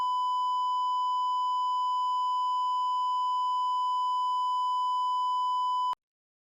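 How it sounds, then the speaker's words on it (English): A steady censor bleep from the censor button on a Rode RODECaster podcast mixer, one continuous pure tone held for about six seconds, fairly loud and alone, then cut off abruptly. "So you got your censor button"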